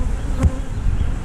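Honey bees drone in a close, continuous buzz at an opened hive during inspection, steady throughout with a brief louder swell as one passes near.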